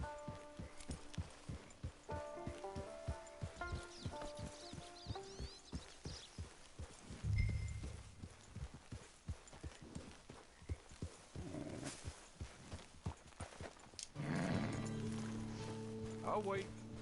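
Horse hooves clip-clop in a steady walking rhythm in Red Dead Online gameplay, close and clear, with music, a brief whinny and a snort mixed in.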